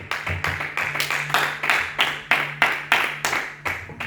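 Church congregation claps in a steady rhythm, about a dozen sharp bursts of collective clapping over a few seconds, close and loud with no talking.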